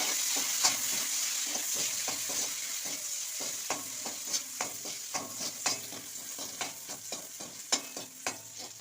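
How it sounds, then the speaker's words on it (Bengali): Raisins fry lightly in a pan over a low flame, a gentle sizzle with regular scraping strokes of stirring, close and clear with no talk. "আমি কিশমিশগুলো একটু লো ফ্লেমে দিয়ে হালকা করে ভেজে নেব"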